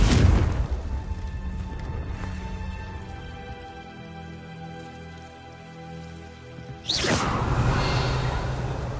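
A Confringo fire spell goes off in Hogwarts Legacy, opening with a loud whooshing blast, then a long sustained roar with a tonal hum that fades slowly before a second sharp burst near the end.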